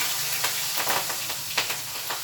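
Green chillies and cumin sizzle in hot oil for a tempering, a close, steady frying hiss with small crackling bursts and no talk.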